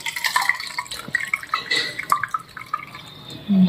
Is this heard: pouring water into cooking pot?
yes